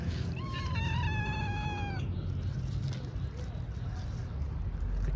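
Hungry cats gathered for food, a few rising and falling meows in the first two seconds over a steady low outdoor rumble.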